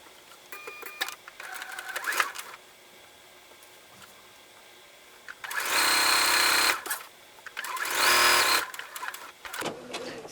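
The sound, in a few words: sewing machine sewing fabric strips together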